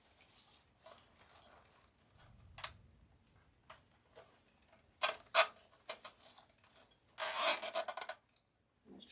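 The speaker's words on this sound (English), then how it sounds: "I'm just going to zip tie this to the basket right here" A zip tie is threaded through and tightened onto a DIY spring butterfly wall basket. It gives scattered faint rubbing ticks, then a sharp snap and a sustained close ratcheting rasp as the strap is pulled tight.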